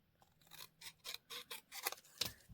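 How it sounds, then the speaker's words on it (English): Scissors make a series of about seven crisp, quiet snips, cutting paper ephemera for a Valentine journal, close up with short pauses between cuts. "I'm going to cut that down."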